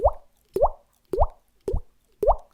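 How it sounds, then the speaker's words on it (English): Five cartoonish teardrop plops fall at an even pace, each a short, bright, rising drip-like bloop, close and isolated against silence. "that gets the full 5 teardrops, and that sounds something like this."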